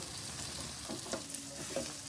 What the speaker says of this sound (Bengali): চালটা যত ভালো ভাজা হবে তত মুড়ি ঘন্টটা ঝরঝরা হবে। এটা এখন আমি ভালো করে ভেজে নেব।